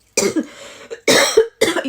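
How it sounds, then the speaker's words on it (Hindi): Close, loud coughing in three harsh bursts, the first drawn out with a rough tail, then two quick sharp coughs after short pauses. "फिर से खांसी आ गई।"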